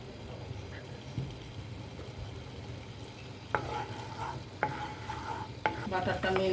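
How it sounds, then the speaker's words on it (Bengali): Two tablespoons of butter melt in a pan for garlic butter stuffed chicken, giving a low, steady sizzle with a few sharp clinks and scrapes near the end. "বাটারটা মেল্ট হয়ে গিয়েছে।"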